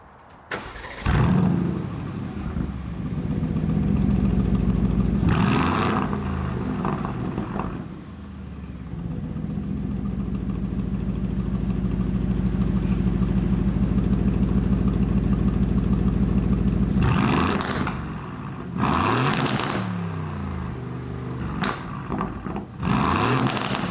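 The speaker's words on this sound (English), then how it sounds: "You need to hear this Mercedes-AMG sourced V8 in its Aston Martin form." An Aston Martin Vantage Roadster's Mercedes-AMG-sourced V8 starts with a loud bark, then holds a deep, throaty rumble with sharp revs that flare up near the end.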